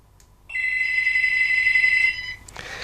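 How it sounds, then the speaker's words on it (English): A telephone rings in a radio studio, one long continuous electronic ring lasting about a second and a half, close and clear, followed by a brief click and low background noise. "Oh, there's the phone, as I predicted."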